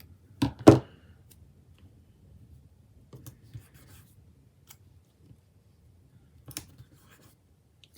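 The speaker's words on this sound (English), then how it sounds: "I'm going to actually cut this sticker." Scissors cut and trim a planner sticker, with a couple of sharp snipping bursts near the start, then sparse quiet clicks and rustles and one more snip toward the end, against near silence.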